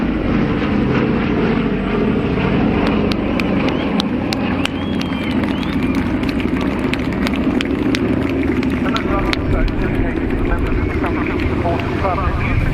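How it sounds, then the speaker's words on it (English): A Boeing B-17G bomber makes a final pass at the RAF Cosford Airshow, a continuous loud rumbling propeller drone with crowd noise and a commentator talking over it throughout. "Final run, the B-17G flying forwards."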